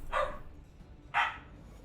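A pet dog gives two separate barks about a second apart, faint and somewhat distant, with quiet between them.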